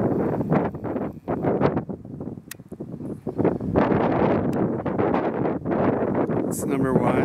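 Wind gusting outdoors at a beehive apiary, buffeting a close microphone in a steady roar with rustling surges throughout.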